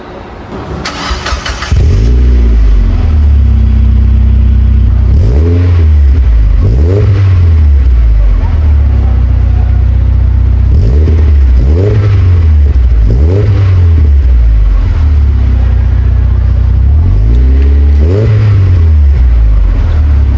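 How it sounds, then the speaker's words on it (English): A Mazda MX-5 engine cranks and fires up from a cold start, then settles into a loud, close idle with several rising-and-falling revs. "place my phone at the back of this Mazda MX-5 so that you guys can hear a proper cold start"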